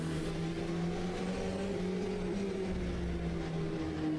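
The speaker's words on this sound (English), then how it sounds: "I think the engine just pops." A race car engine at the Spa-Francorchamps 24 Hours, heard near the chicane, drones steadily with a buzzing harmonic tone and holds a constant level throughout.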